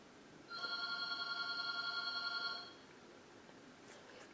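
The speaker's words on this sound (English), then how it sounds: "It's obviously a robocall because it ended in one ring." A single ring of a landline telephone, a bright buzzing bell tone lasting about two seconds in an otherwise quiet room, then silence.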